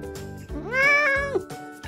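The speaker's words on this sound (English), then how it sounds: "The jungle cat is a clever hunter of the forest." A single jungle cat meow, a drawn-out rising and falling call heard up close and clear, standing alone with nothing else around it.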